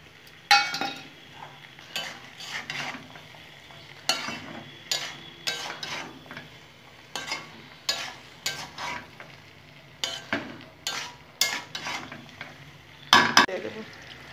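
Rice and red lentils being stirred in a pan for khichuri, with repeated scraping strokes of a spoon against the pan in an uneven rhythm over a soft sizzle, close and clear.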